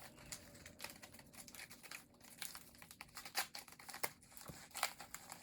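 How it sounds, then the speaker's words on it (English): Crinkly rustling and crackling of book mail packaging being opened with scissors, with a few sharp snips and tears scattered throughout, close by and fairly quiet. "I'm just going to go ahead and open up these 2 packages"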